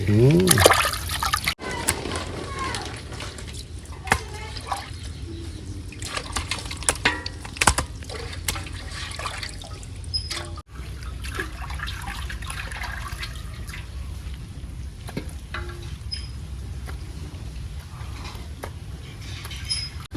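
Cut pangas fish pieces are washed by hand in water, with steady splashing and trickling close by, and a person talking over it throughout.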